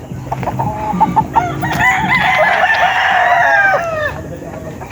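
Roosters and stag chickens crow close by, long loud cock-a-doodle-doo calls layered over one another, with scattered clucks before the crowing swells; faint voices sit underneath.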